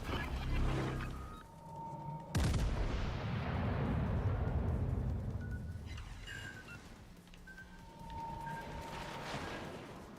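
Warship guns firing in World of Warships: Legends, a heavy booming blast that rolls and decays over several seconds amid ongoing battle rumble and scattered smaller impacts.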